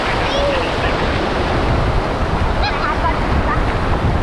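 Waves surging on a beach with steady wind buffeting the microphone, a continuous broadband roar throughout, with faint voices in the background.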